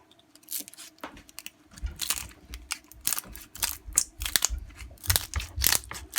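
Repeated crunching snips of a live lobster's hard shell being cut close up with scissors, irregular cracks and clicks over a low rumble, with no talking.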